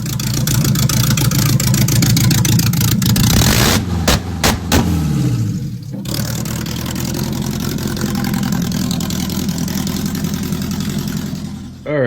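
A K-swapped budget turbo car engine rumbling loudly at close range, with rough idling, a few sharp revs and pops in the middle, then a steady running drone.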